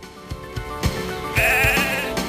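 A sheep bleats repeatedly at close range, several wavering, nasal calls running into a longer, louder bleat near the end, heard alone without talk.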